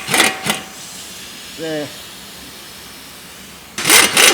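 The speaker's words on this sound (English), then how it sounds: "Then we'll whack that nut off." An impact gun or spanner takes the nut off a front shock absorber bolt on a Mk5 Ford Mondeo, two short bursts of harsh mechanical rattling at either end with a brief rising whir between, close up, and someone speaks briefly.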